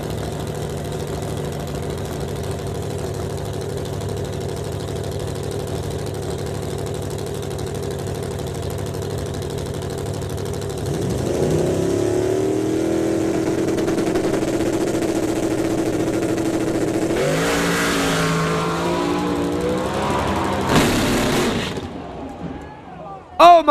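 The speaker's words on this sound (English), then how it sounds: "Blown Brad Anderson Hemi taking on a 471 Boss Hemi in the Mustang." A blown Brad Anderson Hemi drag car and a 471 Boss Hemi Mustang idle steadily, then their engines rise louder with rough bursts of revving before cutting back near the end.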